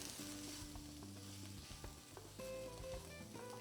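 Chopped vegetables sizzle and crackle in a hot pan as finely minced herbs are stirred through, with utensil scrapes and clicks over a steady frying hiss; no one speaks.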